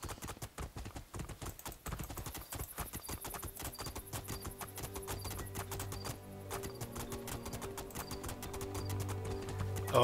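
Horse hooves clip-clop in the video game Two Worlds 2, a fast, steady gallop that runs throughout under quiet game music and ambience.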